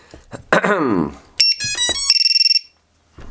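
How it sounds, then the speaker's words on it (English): The battery-loss buzzer on an Eachine Wizard HV racing drone sounds loudly in short rapid bursts, then a steady high beeping tone that stops abruptly, with brief speech just before it. "We've got a buzzer that's going to go off even when your battery comes undone."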